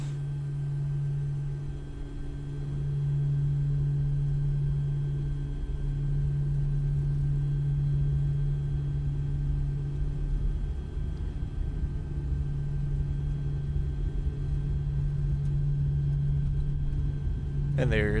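A simulated Blackbox C-23B Sherpa twin turboprop in Microsoft Flight Simulator holds full throttle for takeoff roll, a steady loud droning hum with a constant tonal whine throughout, while someone talks over it.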